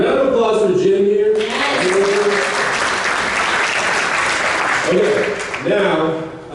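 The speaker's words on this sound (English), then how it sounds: "Round of applause for Jim here." Audience applause for Jim at a positive aging gathering: a burst of clapping from a modest group rises after someone speaks, holds for several seconds, then tapers as talking resumes over its fading end.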